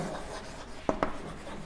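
Marker or chalk writing on a board during a class, a couple of quick sharp strokes over quiet room tone, faint and close.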